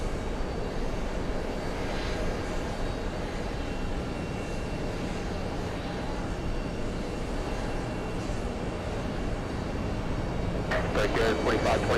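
An Airbus A320 takes off from runway 13 left, its jet engines a steady distant roar carried through the whole stretch, with a brief clatter of nearby noise near the end.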